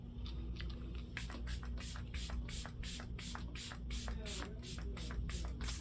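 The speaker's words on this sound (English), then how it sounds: "Now I'm going to go into my Novo spray" Novo makeup setting spray is pumped in a rapid series of about a dozen short, hissing bursts, quiet and close, over a low background hum.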